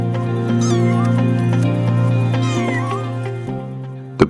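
A small kitten, alone and shivering in the cold, lets out repeated drawn-out, wavering meows, close and loud, with rising and falling cries over a steady tonal background.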